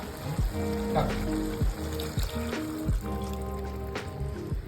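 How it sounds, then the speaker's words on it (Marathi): Two cups of water poured into a pan of sprouted matki and potatoes, trickling and splashing against a sizzling base, with a few soft knocks of the vessel throughout. "दोन कप पाणी आपल्याला टाकायचं याच्यामध्ये"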